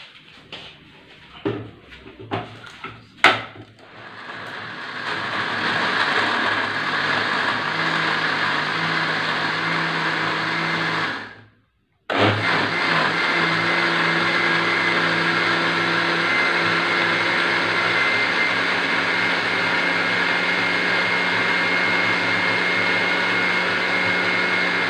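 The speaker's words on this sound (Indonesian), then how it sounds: "Oke, terus kita blender." An electric blender grinds tamarind and spices with water for a prawn curry, a loud steady whirring drone that starts after a few clunks, briefly stops, then resumes at full speed.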